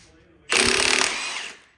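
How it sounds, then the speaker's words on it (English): A Milwaukee high-torque 1/2-inch impact wrench loosening a bolt on a car during an engine swap, a single loud hammering burst of about one second that rattles rapidly, then winds down as the bolt breaks free. "So I have the high torque Milwaukee 1/2-inch impact. Let's see if it works."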